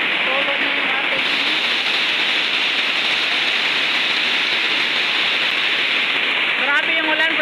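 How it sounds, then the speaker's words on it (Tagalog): Heavy rain pours steadily at night onto a house roof, a dense, loud, unbroken roar that runs throughout, with faint voice-like tones briefly showing through near the start and end. "Grabe ang lakas ng ulan."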